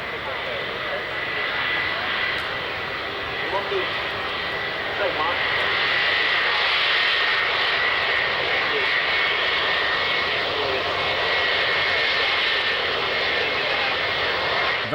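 C-17 military transport aircraft engines roar steadily at a Mildenhall air show in 1994, a loud sustained jet whine that swells slightly as the plane passes, heard alone from a distance.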